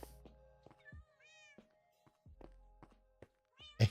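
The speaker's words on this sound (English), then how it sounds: "I hear the cats in there meowing." Cats meowing in the video game Minecraft, several short meows from a few cats scattered across the moment with quiet gaps and soft thumps between, fairly close and without talk.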